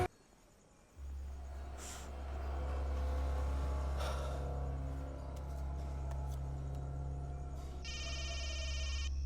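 A telephone rings briefly near the end, a bright electronic trill cutting in over a steady low droning hum that fills the rest of the moment.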